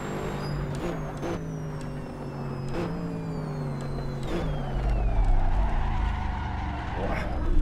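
A race car drifts with loud, sustained tire squeal in Assetto Corsa on PS4 at Monza, engine tone sweeping up and down through gear changes as the skid continues close and prominent.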